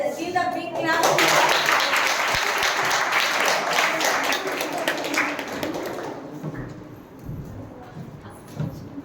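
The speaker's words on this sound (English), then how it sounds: "Give a big clap." A college audience applauds the Royal Challengers student group at a social-awareness event, with loud, dense clapping that swells quickly, holds for several seconds, then thins out. Voices mingle in the crowd noise.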